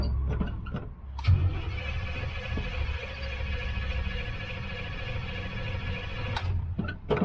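The engine of a 1965 Chevrolet Suburban cranks on the key in a steady, droning run lasting several seconds, close and fairly loud, with a few clunks at the start and end.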